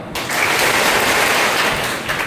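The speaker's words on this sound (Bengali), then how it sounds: "ওকে, হাততালি দাও।" Schoolchildren at a science and technology fair clapping their hands together, a dense burst of loud applause that starts abruptly, holds steady for about two seconds, then fades off.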